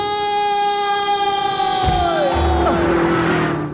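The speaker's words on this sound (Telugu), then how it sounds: "సైరన్నే కొట్టాడు" A siren wails in a comedy film scene, a loud sustained tone sliding downward and breaking into a wavering rise, with vehicle and crowd noise faintly underneath.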